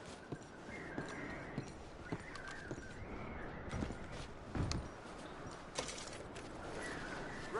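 Horses in Red Dead Redemption 2 shifting and clopping their hooves at a slow, irregular pace, with leather and gear creaking as packs are loaded, soft and close amid quiet outdoor ambience and occasional birdsong.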